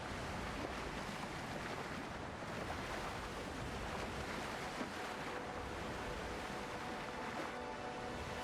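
Ocean waves surge and wash around a ship at sea in the game Windrose, a steady, fairly quiet rushing roar mixed with wind that stays constant throughout with no voices.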